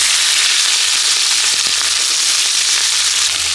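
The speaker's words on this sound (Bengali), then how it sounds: "আলু ভাজা তেলের মধ্যে চিংড়ি মাছটা ভেজে নেব" Shrimp fry in hot oil left over from frying potatoes in a village kitchen, giving a loud, steady sizzle with faint crackles and no voices.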